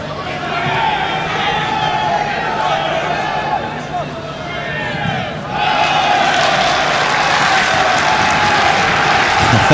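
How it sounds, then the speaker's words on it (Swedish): Djurgården football fans in a stadium crowd at an Allsvenskan match against Trelleborgs FF, their applause and cheering forming a dense, continuous roar that swells louder midway, with commentary over it. "Han river flera applåder här utav Djurgårdsfansen."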